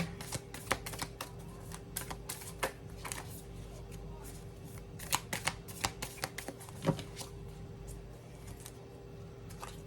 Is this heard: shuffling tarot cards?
yes